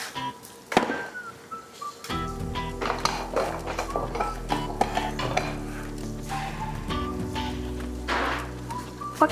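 A spoon stirs Ghanaian palava sauce in a metal cooking pot, with repeated scraping clinks and knocks against the pot sounding close and busy over a low steady hum.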